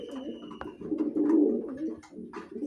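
Racing pigeons in a loft coo in low, rolling murmurs, several overlapping throaty calls close by, with soft rustling between them.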